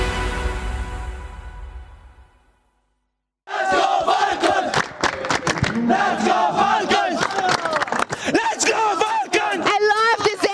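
An esports crowd at the Esports World Cup grand final roars and chants for Team Falcons, a loud, dense cheer that surges after a brief silence and stays sustained, with shouted cries mixed in.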